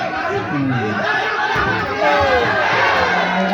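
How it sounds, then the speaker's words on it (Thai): A crowd of supporters at a Thai boxing match cheers and shouts loudly, a dense roar of overlapping voices that swells louder partway through. "กองเชียร์ของวัดนาคงเสียงดังขึ้นเลยนะ"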